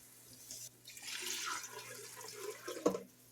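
Water pours into an 8-quart Instant Pot, a steady splashing stream that swells and then ends with a brief louder splash, close by with no talking.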